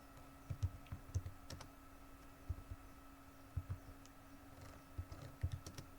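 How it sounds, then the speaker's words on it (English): A search phrase is typed on a computer keyboard, with soft key clicks coming in short irregular bursts and pauses, close but quiet, and no speech. "you want to go to search bar and type in places"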